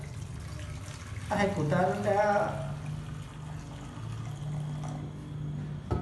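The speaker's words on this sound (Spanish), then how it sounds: "con mucho cuidado vamos a ingresar el agua caliente al recipiente donde están los globos" Hot water is poured carefully into a container holding balloons, a steady running stream under a voice talking in Spanish.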